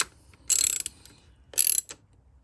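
Ratchet snugging down bolts on an Indian motorcycle, two close, quick bursts of rapid clicking with a pause between them in an otherwise quiet space.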